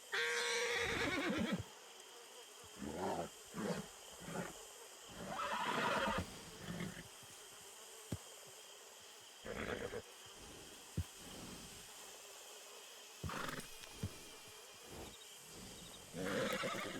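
Horse neighing in a Wild West role-play video game, several loud whinnies in separate bursts with quieter ambience between them.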